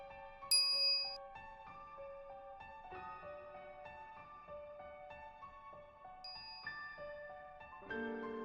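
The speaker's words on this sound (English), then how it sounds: "I'm greeted by the chiming of a microwave oven." Microwave oven chime from the visual novel Steins;Gate, a gentle sequence of bright melodic ding tones and tinkling notes, quiet and clear with no talk.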